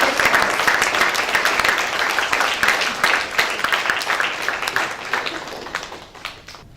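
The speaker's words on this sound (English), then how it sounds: "give a round of applause for all the veterans in this room" A room full of people applauding the veterans present, a loud, sustained burst of clapping that gradually thins and fades toward the end.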